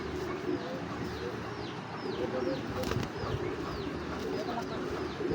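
Black checker racing pigeons in a loft, soft repeated cooing with a few wing flutters over a steady background murmur, moderately near.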